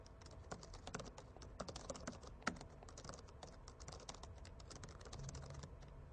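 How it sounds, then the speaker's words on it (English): Rapid, uneven clicking of fingers typing on a computer keyboard, with close, crisp keystrokes and the occasional sharper tap, continuing without pause and with no voices. "I'll type in a very basic Hello World application."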